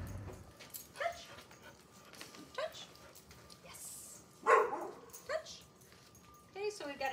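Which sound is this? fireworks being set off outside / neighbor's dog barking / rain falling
neighbor's dog barking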